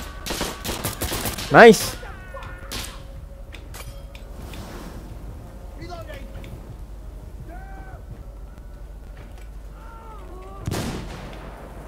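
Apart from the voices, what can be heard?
frag grenade thrown and gunfire in a shooter video game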